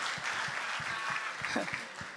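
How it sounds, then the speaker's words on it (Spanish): A congregation at a Spanish-language church sermon applauds, a steady, fairly quiet spatter of many hands clapping with a few distinct louder claps, briefly heard without voices on top. "¿Por qué no aplaudimos y agradecemos a Dios por nuestra esposa?"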